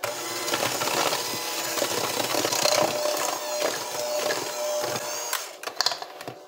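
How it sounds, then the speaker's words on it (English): An electric mixer beats peanut butter cookie dough after baking soda is added, giving a steady, close motor whir that runs throughout with a few rattling bumps near the end and no talking. "Once more with the mixer"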